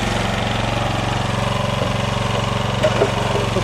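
A 59 Chevrolet Bel Air owner's lawnmower engine runs steadily at a loud, close idle, with a constant droning rumble throughout and a couple of faint clicks near the end.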